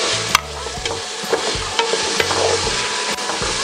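Ginger goes into onions sautéing in a pot for Bisaya bakareta, giving a steady, close sizzle with occasional stirring clatter throughout.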